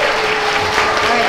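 An audience at a pre-K through third grade school character education assembly applauds for the second grade, producing a steady, dense burst of clapping that fills the room.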